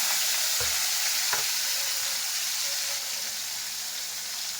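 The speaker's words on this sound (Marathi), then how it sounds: "त्याच्यात मी आता जिरा मोहरी आणि हिंग टाकलेलं आहे, आणि थोडंसं टमाटे" Cumin, mustard seeds, asafoetida and a little tomato dropped into hot oil for sambar, making a steady, close, loud sizzle and hiss with a couple of small pops early on.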